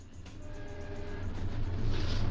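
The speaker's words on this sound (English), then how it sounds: "an eastbound coach train of the orange 1929 steel cars rounding Hanson's or Ford City curve" An eastbound South Shore interurban coach train of orange 1929 steel cars rounds a curve, its wheels rumbling and squealing and growing steadily louder as it approaches from a distance.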